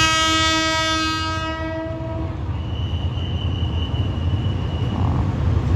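Hitachi 4516 diesel locomotive heading an express train at Bang Sue station gives a loud, chordal horn blast lasting about two seconds, then a deep, steady engine rumble carries on nearby with no talking.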